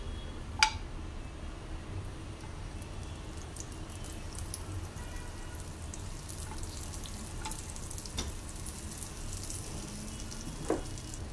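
Butter melting on a hot tawa gives a soft, steady sizzle close by, fairly quiet, with a couple of sharp clinks from utensils and no talking.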